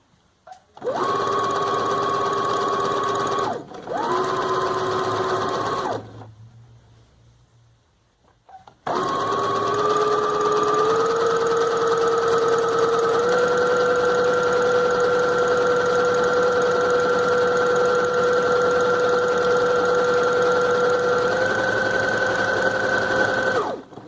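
A sewing machine stitches and gathers apron fabric in close, loud bursts: two short runs, a pause, then one long steady whirring run that rises slightly in speed.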